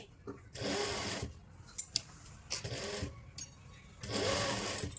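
Sewing machine stitching a lined kurti side panel, whirring in three bursts separated by short pauses, fairly quiet.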